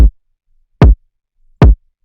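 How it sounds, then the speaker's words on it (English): Three kick drum hits processed through Ableton's Drum Buss with the transients turned down, giving a softer, subby low-end thump, evenly spaced and isolated. "it almost makes it sound more subby."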